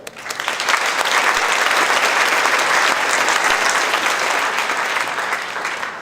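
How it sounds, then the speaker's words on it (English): Audience applause at a royal court event in Ellensburg, honoring the escorts: dense, sustained clapping from a sizable crowd that holds steady for six seconds and tapers slightly at the end. "a round of applause for the expert, or to the escorts"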